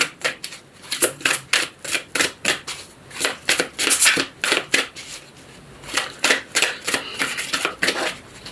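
Tarot oracle cards shuffled by hand, a close, loud series of crisp riffling flutters and slaps arriving in quick rhythmic bursts with brief pauses, heard with no talking.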